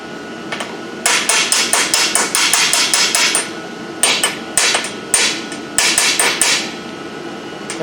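Metal hammer blows set a ball bearing into a forged iron piece: fast, loud, ringing strikes in several bursts with short pauses between, close and alone with no talk.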